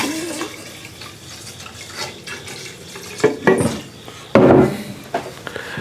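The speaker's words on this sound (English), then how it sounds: "Let me pour a little of this back in here so I don't spill it." Homemade pumpkin rum poured from one vessel back into a container, a soft liquid trickle with a few splashy bursts and light clinks of glass or pot.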